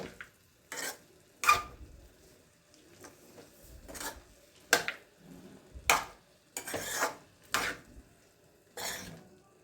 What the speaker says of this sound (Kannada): ಒಗ್ಗರಣೆಯಲ್ಲಿ ಈ ಥರ ಚೆನ್ನಾಗಿ ಮಿಶ್ರಣ ಮಾಡಬೇಕು